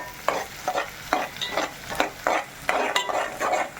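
Onions sauté in a pan with salt, a spatula scraping and tossing them in regular strokes every half second or so over a light sizzle, close and moderately loud without talk.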